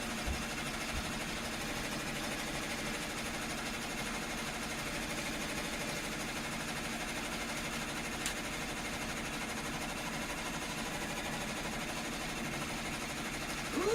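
A sewing machine runs a satin stitch, its fast steady mechanical whir and rapid needle chatter continuing evenly at moderate volume nearby.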